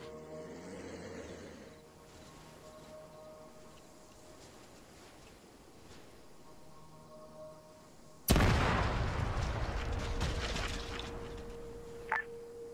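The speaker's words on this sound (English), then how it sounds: "Another explosion to the southeast." A distant explosion booms through a military video game, arriving as one sudden loud blast that lingers in a long rumbling tail over a quiet ambient backdrop.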